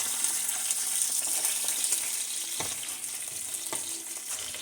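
Onions sauté in a hot pan for chicken adobo, giving a steady bright sizzle with occasional stirring clicks and scrapes, close and continuous, with no voices.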